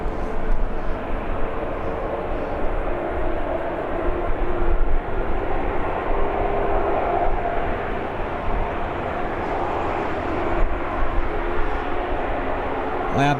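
Jet engines of a Jet2 airliner in the newer Holidays livery at Birmingham Airport give a steady, loud roar that holds broadly the whole time, heard from a fence nearby with no talk over it.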